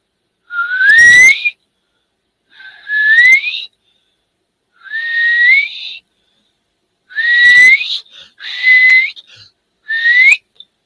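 A bird, called a whistling coal, whistles over and over from a tree: six loud rising whistled phrases, each about a second long, repeating at a steady monotonous rhythm with short silent gaps between them.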